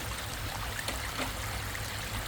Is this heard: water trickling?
yes